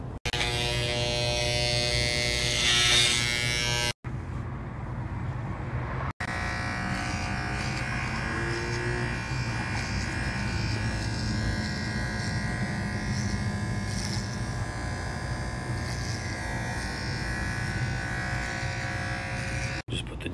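Electric hair clippers shaving a man's hair in a prank barbershop setup, a steady close buzzing hum running almost continuously, cut off briefly twice near the start, with no one speaking.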